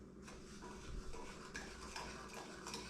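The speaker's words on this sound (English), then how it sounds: "let's give that a little stir" Utensil stirring homemade syrup in a pot on the stove as it starts to boil, with soft scraping and clinking strokes that repeat steadily through the clip and stay close and fairly quiet.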